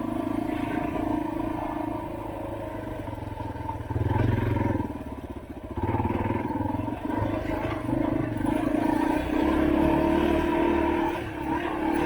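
A motorcycle engine drones continuously while riding a trail at Walker Valley, a loud, close, steady roar in a high gear with slight dips and surges in throttle.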